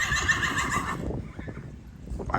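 A horse at a Buffalo Bill's Wild West show gives a loud, close whinny for about a second, then quieter outdoor sounds and faint hoof movement follow.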